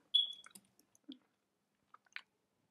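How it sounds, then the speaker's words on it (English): Someone chewing chocolate close to the microphone, a few faint, sparse wet squishes and clicks with long quiet gaps between them, no talking. "So right now, I'm chewing some chocolate."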